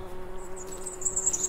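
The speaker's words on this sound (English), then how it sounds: "I hear the busy humming of the other bees nearby" Bees humming near flowers, a thin steady buzzing drone with a higher whine rising toward the end, soft and continuous with no talking.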